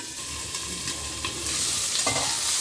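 Chopped onion and capsicum sizzle steadily in a hot pan, a dense frying hiss with occasional stirring scrapes, close and continuous with no voices.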